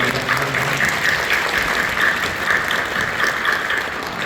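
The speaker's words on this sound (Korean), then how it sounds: "하나님께 우리 감사와 영광의 박수를 올려드립니다." Church congregation clapping together in worship, a loud, even wash of applause sustained throughout without any talking.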